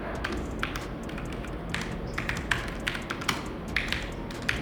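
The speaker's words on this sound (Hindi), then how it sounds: "तो जैसा कि आपने इस कीबोर्ड की आवाज़ सुनी, ये हमारे किसी भी मैकेनिकल कीबोर्ड की लीनियर कीज से काफ़ी ज़्यादा स्मूथ है" Keys clatter on a Logitech MX Mechanical Mini keyboard in quick, uneven bursts of light clicks and taps over a steady background hiss, with no voices.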